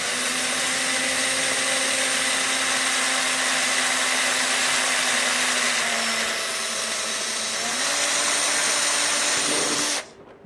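A power drill's steady high-pitched motor whine runs continuously while drilling plastic, dipping and rising in pitch under load before cutting off abruptly near the end.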